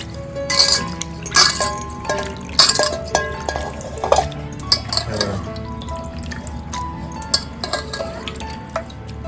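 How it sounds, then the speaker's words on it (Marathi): Mandeli fish are washed in water inside a cooking pot, with close, repeated sloshing, squishing and dripping in an uneven rhythm throughout, without talk. "पुन्हा ना ह्याला आपण व्यवस्थित धुवून घेतोय टोप घेतलेला आहे टोपामध्ये कसं स्वच्छ करायला इझी होतं पाणी घालून घेते"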